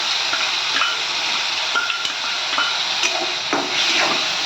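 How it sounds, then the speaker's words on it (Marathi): Tomato tossed into a hot frying pan with capsicum and ginger-garlic paste for masala pav bhaji, a steady close sizzle and hiss broken by light scrapes and taps of stirring, with no voices. "तर आता आपण टोमॅटो टाकून घ्यायचा आहे."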